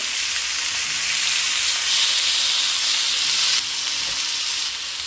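Meat searing in a hot pan, turned partway through, gives a steady, loud broadband sizzle that holds throughout with a slight dip near the end.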